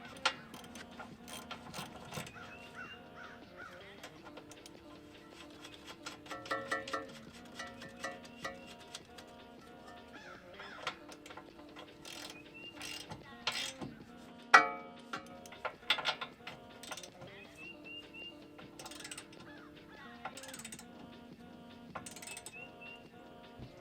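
Ratchet tightening a car's lower ball joint, close rapid clicking in repeated bursts of cranking with brief pauses and occasional metallic knocks, fairly quiet overall.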